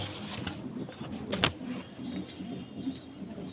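A pigeon, a three-and-a-half-year-old hen, coos softly amid faint background noise, with a brief sharper sound partway through.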